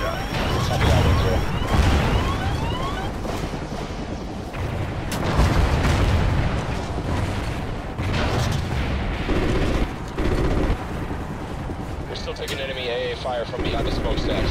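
Missile fire and heavy explosions in the Call of Duty Ghosts video game, a dense run of booming blasts and rumbling impacts that hold loud throughout, with voices talking over the battle.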